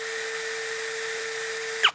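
DongCheng DCJZ2040i13 cordless brushless impact drill running free with a steady high-pitched electric whine, close and even, stopping abruptly with a short spin-down at the end.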